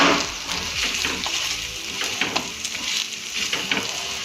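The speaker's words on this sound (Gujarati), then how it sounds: "અને એકદમ સરસ રીતે નીચે ફ્રાય થવા દઈશું." Cheesy garlic paratha sizzles and fries in a pan over a low flame, a continuous close crackle with occasional spatter and stirring clicks, and no talking.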